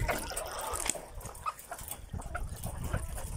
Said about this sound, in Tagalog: nagdi-drain po yung tubig